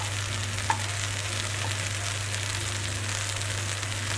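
Barberries frying in butter in a pan, a steady, close sizzle and crackle with one small clink near the start.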